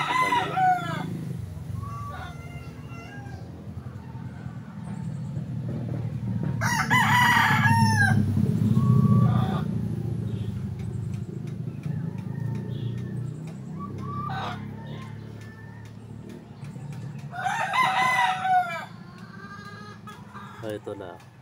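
Backyard chickens kept inside a bamboo enclosure cluck steadily while a rooster crows loudly twice, close by, over a low background rumble and occasional speech.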